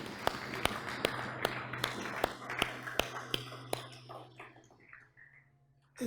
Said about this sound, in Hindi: Would you like to clap for them?